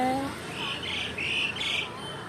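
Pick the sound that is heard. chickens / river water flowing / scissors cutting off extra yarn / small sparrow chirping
small sparrow chirping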